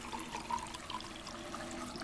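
Water running from a tap in Life Is Strange 2, a steady, soft splashing stream at low level with faint gurgles, heard alone without talk.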